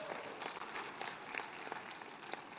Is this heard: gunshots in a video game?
no